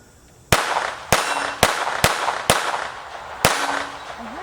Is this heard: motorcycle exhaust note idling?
no